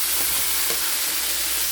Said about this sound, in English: I will add my tomatoes into our onions, garlic, and ginger spices.